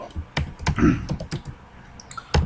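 Typing on a computer keyboard: quick irregular clusters of close key clacks with brief pauses between bursts, fairly loud and alone.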